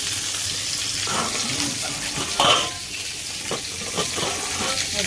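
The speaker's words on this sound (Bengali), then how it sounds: "আর একদিকে কপি ভাজছি" Soft sizzle of cauliflower frying in a pan under kitchen clatter, with a brief sharp clink of utensils midway and scattered light knocks.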